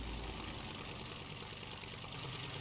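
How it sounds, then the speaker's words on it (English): Boat engine in the Stranded Deep survival game turning over and settling into a steady idle, a continuous low rumble with a faint knocking texture that stays constant for the whole stretch. "Okay, the engine's starting."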